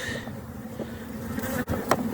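Honey bees buzz around a hive while taking syrup, their hum a low steady drone close by with a few brief louder passes, during a cold, long rainy spell.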